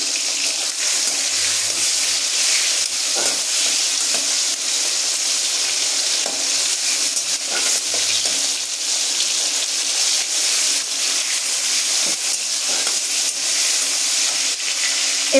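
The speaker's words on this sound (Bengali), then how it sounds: "টমেটোগুলোকে আমি ভালো করে ভাজতে দেবো।" Tomatoes frying in a pan during paneer cooking give a loud, steady sizzle and crackle throughout, with occasional stirring scrapes and no voices.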